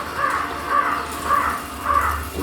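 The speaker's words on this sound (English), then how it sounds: "Soon after, hundreds of birds darkened the sky." Crows cawing, four evenly spaced harsh caws in a steady rhythm, fairly loud and clear over a faint background hiss, with no voices.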